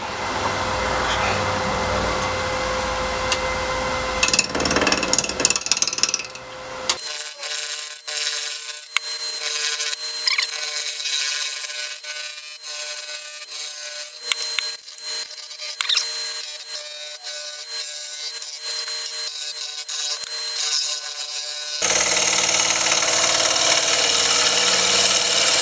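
A gouge cuts a beech bowl spinning on a wood lathe at around 1100 RPM, a steady close scraping hiss over the motor's hum, with the tone shifting partway through and rising again near the end.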